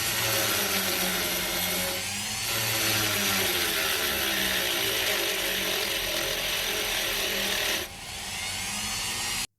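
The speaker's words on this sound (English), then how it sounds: "the motor is actually starting to stall when I press really hard with the slower speed" A slow-speed electric sharpener motor runs with a steady whine that drops and strains as the motor nearly stalls under hard pressure, then returns to full speed before cutting off.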